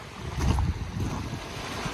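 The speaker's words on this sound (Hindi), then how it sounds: "अब देख सकते हैं कितना खूबसूरत बीच है।" Steady wash of waves and gusting wind on a resort beach, a continuous broadband rush that swells slightly and holds at a moderate, even level with no talking.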